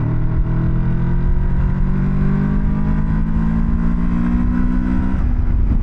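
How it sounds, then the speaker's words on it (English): Moto Morini X-Cape 700 mid-weight adventure motorcycle pulling hard in third gear, its engine note rising steadily in pitch as it accelerates, loud and close with wind rush throughout, easing off near the end. "let's do some roll-on power. Third gear. From 40 to 70."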